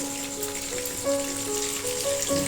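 Eggplant fries in very hot oil with a steady, dense sizzle throughout, and a faint tonal hum sits beneath it.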